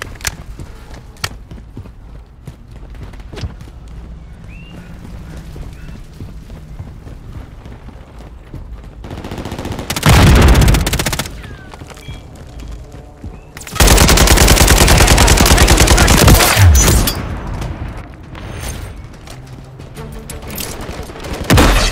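Loud bursts of automatic gunfire in a Call of Duty Modern Warfare III team deathmatch, one short volley and then a longer sustained barrage, set against quieter battle ambience with scattered distant shots.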